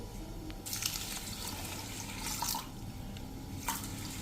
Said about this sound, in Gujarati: તો આ 1/4 કપ જેવી ખાંડ છે અને એમાં આપણે 1 ગ્લાસ જેવું પાણી નાખી દઈએ